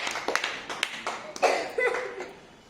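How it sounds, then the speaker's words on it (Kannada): Scattered clapping from a group of schoolchildren applauding a classmate, brief uneven bursts of hand claps mixed with light chatter and a little laughter. "ಏನು ಹೇಳ್ರಿ ಚಪ್ಪಾಳೆ ಹೊಡೀರಿ ತರುಣಿಗೆ ಎಲ್ಲರೂ ಹೊಡೀರಿ"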